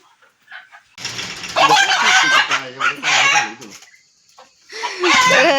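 A rooster clucks and squawks loudly in agitated bursts as it is caught by hand, with a short pause before another burst of flustered calls.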